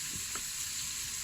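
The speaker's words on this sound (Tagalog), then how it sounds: "basta prito, fish and beef" Fish and beef fry in a pan with a steady, soft hiss of sizzling oil, heard alone without voices.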